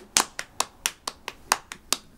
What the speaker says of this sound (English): Great way to practice it with your hands because you go left, right, left, right, left, right.